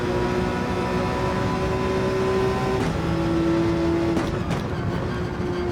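Porsche 911 race car in a racing video game, engine droning loud and steady with a sustained tonal whine that drops in pitch at gear shifts, no talking.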